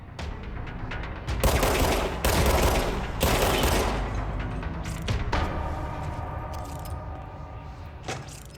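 Gunfire from the video game Control erupts in several loud, dense bursts of rapid shots with booming tails, separated by short pauses and fading toward mechanical clatter.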